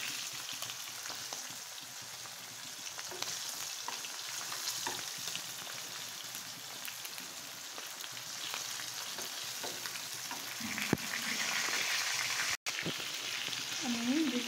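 Fish pieces fry in hot oil in a pan, giving a steady, close hiss and sizzle with light bubbling crackle throughout and an occasional soft clink near the end.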